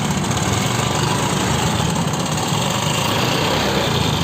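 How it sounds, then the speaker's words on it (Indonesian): Honda Vario scooter engine idling with a knocking fault, a steady close mechanical clatter and rattle running continuously for several seconds with no voices. "ini motor Vario. Bunyi klotok."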